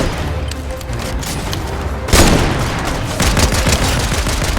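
Gunfire in Fortnite from a shotgun battle: a sudden loud burst of blasts erupts partway through, then bursts of shooting and booms continue amid busy game noise.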